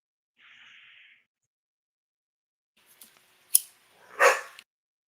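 Dogs at home bark and snarl in a short exchange, one sharp yelp followed by a louder burst of growling barks, with a faint earlier hiss-like noise and quiet gaps between.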